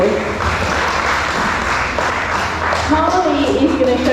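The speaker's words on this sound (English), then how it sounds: "Give him a big round of applause." Audience at a bird show clapping steadily for several seconds, a dense wash of hand claps with a voice talking over it toward the end.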